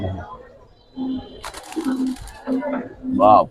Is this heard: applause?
no